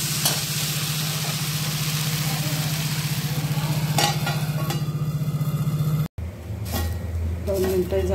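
Sprouted moth bean dosa frying in ghee on a pan over a gas stove, a steady loud sizzle under a low hum, with someone talking over it and a brief cut near the end.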